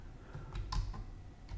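Several computer keyboard keys are tapped in quick, irregular succession, close and crisp, used to jog a CNC machine running Mach3 control software.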